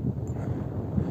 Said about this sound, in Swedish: Det blåser lite mer.